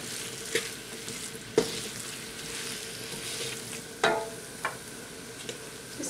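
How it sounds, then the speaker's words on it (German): Fried rice with vegetables, egg and chicken thighs sizzles and fries in a hot pan, a constant crackling hiss broken by several sharp clinks of a utensil scraping and stirring. "Jetzt lassen wir das schön anbraten."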